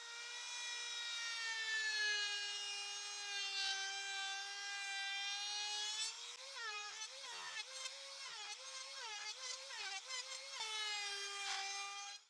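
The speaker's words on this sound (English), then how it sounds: "I will use the router with a 30 millimeter round over bit to smooth the edges of the piece" Wood router fitted with a 30 millimeter round-over bit smoothing the edges of an old wood piece, a loud sustained high whine that holds steady, then wavers and chatters as the bit cuts, heard alone and close.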